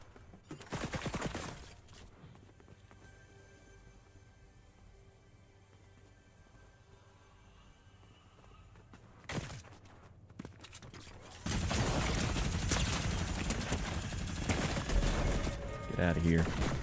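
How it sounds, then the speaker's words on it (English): Video game minigun fire arriving in long, dense sustained bursts, a brief volley early on, a sharp burst mid-way, then continuous heavy rapid fire dominating the final seconds. "did we pick up a minigun?"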